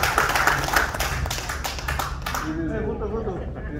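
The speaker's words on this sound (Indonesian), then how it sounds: "Kita berikan tepuk tangan untuk pasangan suami ini." Audience applause for a married couple at an indoor gathering, brisk close clapping that is loud at first and fades after about two and a half seconds as a voice speaks over the tail.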